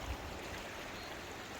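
A river runs through a Scottish forest, a soft, continuous burble and rush of water heard close by with no voices.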